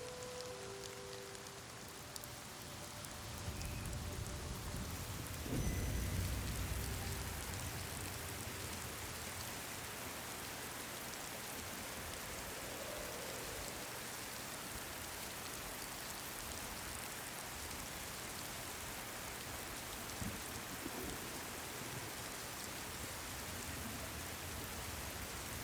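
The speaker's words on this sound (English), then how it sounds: "It's raining." Steady rain falls in a video game in a soft, even hiss that continues throughout, with a muffled low thump early on.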